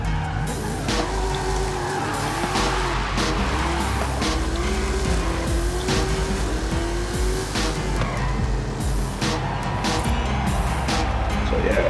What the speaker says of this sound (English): So yeah, this is the Camaro.